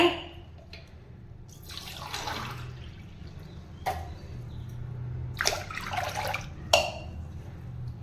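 About two litres of water splash and pour in several uneven bursts into a cooking pot, with gurgling and dripping between pours against a low background hum.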